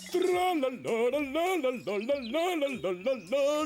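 A cartoon bird sings in a forest with a bright, warbling, voice-like melody of sliding rising and falling notes, loud and close, continuous for a few seconds.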